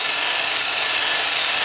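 A drill-driven hone scrubs inside an engine cylinder at steady speed, giving a continuous harsh, hissing abrasive grind that stays loud and even with no pauses.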